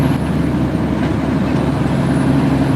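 A truck engine pulls steadily in 16th gear (8 high), a loud, continuous low drone with constant load and no pauses, heard from inside the cab.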